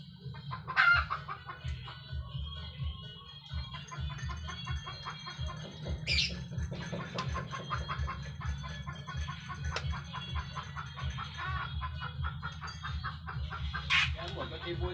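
Chickens cluck steadily and close by, with a few brief sharper squawks and a rooster-like call, over a low continuous background hum.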